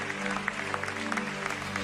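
A church congregation clapping in steady, continuous rhythm during French-language worship singing, with the applause dense and close throughout.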